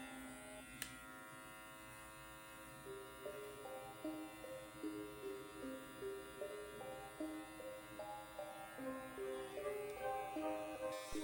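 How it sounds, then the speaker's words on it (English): An electric hair shaver buzzes steadily while cutting hair low on the sides during a low taper fade haircut. It gives a close, quiet hum with rhythmic pulses as it passes over the head. "Use the shaver a bit lower than we use the trimmer"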